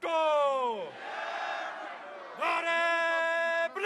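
A crowd at a Pakistan Peoples Party corner meeting at Eidgah Ground, Astore, roars a slogan for Bhutto in two long, loud chanted bursts separated by a brief murmur.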